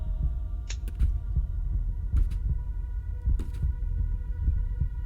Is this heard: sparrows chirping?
no